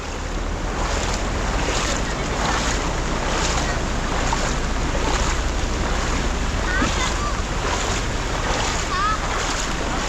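A truck pushes through deep flood water on a street in Nalasopara, sending continuous washing surges and sloshing waves, with heavy wind buffeting the microphone throughout.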